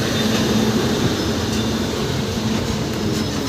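The Purushottam Superfast Express pulls into Gaya Junction with a steady, loud rumble of railcars and wheels on track, a continuous low roar throughout with faint metallic squeals.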